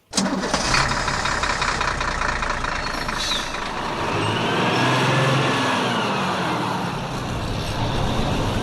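A bus engine cranks briefly and catches, then settles into a loud, steady diesel idle rumble, close by and alone.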